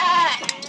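A single close Faroese sheep bleat, a wavering nasal cry under a second that fades into soft outdoor noise.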